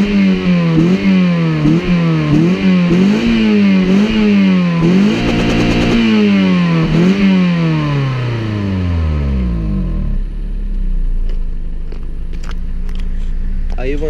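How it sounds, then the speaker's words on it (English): A 1999-2005 Toyota Celica 1.8 VTi, 143 hp, revs through its stock exhaust with a resonator: a series of quick, loud, close throttle blips, then one longer climb that falls away to a steady idle. "I'll show you how it revs."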